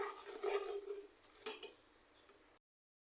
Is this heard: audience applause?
no